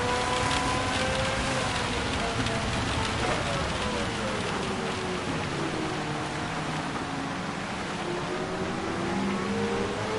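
Rain falls steadily on the wet track at Tsukuba in Gran Turismo 7, a constant hiss under the rising and falling whine of a racing car's engine, with some talk.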